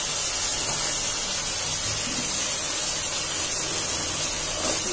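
Vegetable stalks and potatoes go into a spiced pan with fish and sizzle steadily, a dense close hiss that continues evenly throughout without talk.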